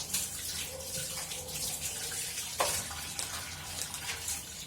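Utensils are rinsed under running water from a tap, with a steady splashing stream and a few clinks of metal close by.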